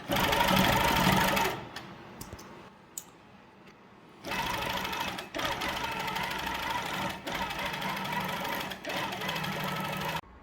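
A longarm quilting machine guided by a Pro-Stitcher runs edge-to-edge stitching in loud whirring bursts, falls to near quiet for a couple of seconds with small clicks, then resumes steady stitching with short pauses.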